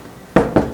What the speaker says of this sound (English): I heard a knock again.